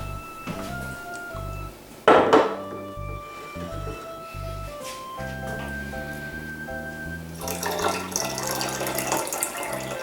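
Lemon juice pours steadily into kombucha over the last few seconds, a soft splashing hiss layered on top of continuous background music.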